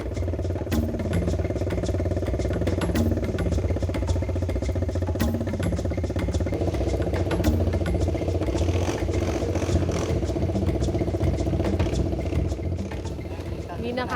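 A habal-habal motorcycle taxi labors along a slippery, muddy and rocky uphill road, its engine droning steadily throughout with rattling clatter on top.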